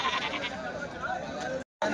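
Goats bleat amid the hubbub of the weekly goat and buck market at Kadiri, with several overlapping bleats and a murmur of people talking nearby, the sound cutting out briefly near the end.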